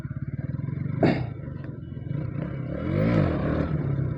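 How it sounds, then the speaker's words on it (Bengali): Motorcycle engine idling and revving on a road during wheelie practice, with a rhythmic throbbing idle, a sharp rev about a second in and a rising, falling throttle swell later; close and fairly loud. "চলো কিছু হুইলি প্র্যাকটিস করা যাক"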